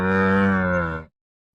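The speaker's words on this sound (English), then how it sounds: "Camel." A camel gives a single loud, deep, drawn-out groaning bellow. It lasts about a second, fades slightly, then stops into silence.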